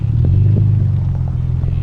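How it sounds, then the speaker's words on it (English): A Toyota 4Runner rolls slowly over ruts, a loud, steady low engine rumble and drivetrain drone close up, with faint thumps from the tires and no talking. "Now we're driving over these ruts and you barely even feel them."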